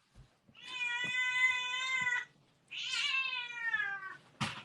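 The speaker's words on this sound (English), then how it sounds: "Our cats went fucking ape shit" Two long, drawn-out cat yowls sound close and loud, separated by a short pause, with faint knocks and a sharp noise at the end.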